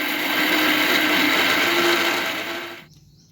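A mixer grinder whirs loudly and steadily while grinding chutney ingredients with ginger and salt, then winds down and stops shortly before the end.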